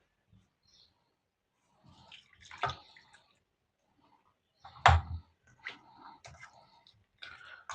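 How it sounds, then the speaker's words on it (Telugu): Water is poured into a batter of semolina and curd, heard as a few soft, scattered splashing bursts with quiet gaps between them. "వాటర్ పోసుకొని మొత్తం అయితే కలుపుకుందామండి."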